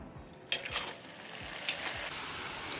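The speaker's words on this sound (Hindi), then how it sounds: "ये हमारा फर्स्ट फ्राइंग है" Homemade french fries dropped into boiling hot oil for a first fry, a sudden bright bubbling hiss that swells after a moment and settles into a steady close sizzle.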